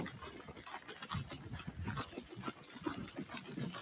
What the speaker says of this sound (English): He's racing the other dog.